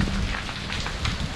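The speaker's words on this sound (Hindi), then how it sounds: "बारिश हो रही है।" Steady rain patters down during a road trip in Goa, a dense, even hiss of drops on surfaces, close and moderately loud with no speech over it.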